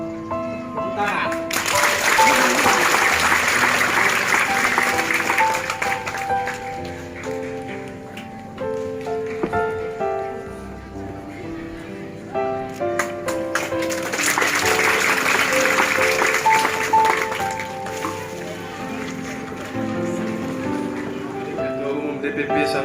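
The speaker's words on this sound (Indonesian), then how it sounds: "Tepuk tangan." A church congregation at a Catholic Mass for the handover of a parish pastor, Santo Damian Lau Baleng, breaks into applause twice, swelling and fading, with talk and other sounds of the service beneath.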